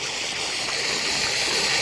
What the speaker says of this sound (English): So the pump is now on. Water is feeding in and shooting out through the diffuser.